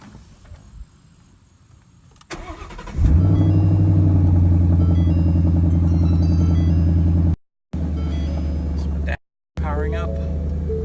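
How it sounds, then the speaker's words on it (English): A Ford Mustang muscle car engine cranks briefly on a cold start, then catches and settles into a loud, steady idle rumble, with two short gaps in the sound near the end. "Get a quick little cold start for you guys."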